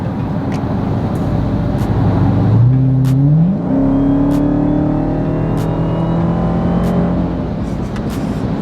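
A Dodge Hellcat roars hard under acceleration, the engine note climbing through a gear change and then holding a loud, sustained rising drone, heard from inside the car without talk.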